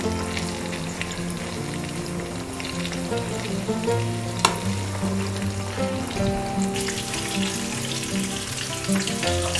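Chicken spiral kebab fries steadily in a pan, a dense, continuous sizzle and crackle running the whole time with a brief sharper spatter midway, close and fairly loud, with no voices.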